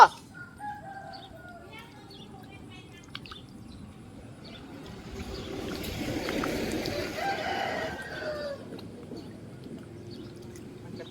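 A chicken crows at a distance amid outdoor ambience, a long drawn call rising in the middle of the clip over steady background noise, with other faint bird sounds around it.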